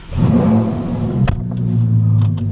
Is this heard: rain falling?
no